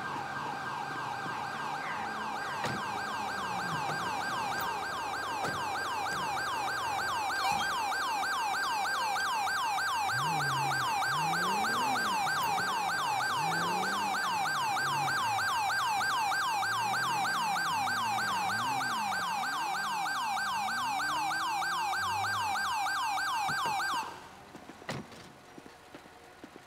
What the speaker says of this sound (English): Ambulance. Assistance required in Grande Sonora Desert.